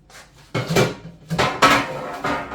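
A sourdough oatmeal cookie is set out on a plate in a home kitchen, with a few light clinks and clacks of dishes heard up close.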